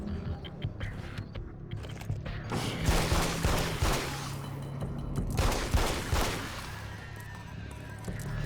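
Rapid pistol shots in the video game Alan Wake's American Nightmare, a dense run of sharp cracks fired in quick succession over a couple of seconds, with a second cluster later amid rumbling background game sound.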